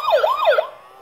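A toy ambulance plays an electronic wailing siren, its rising and falling tone looping close and loud for about half a second before cutting to quiet.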